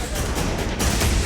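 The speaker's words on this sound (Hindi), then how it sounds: "एक के बाद एक सिलेंडर में धमाके" Gas cylinders exploding one after another in a burning truck at night in Loni, Ghaziabad, giving a loud, dense roar of broadband noise with a heavier blast around the final half-second.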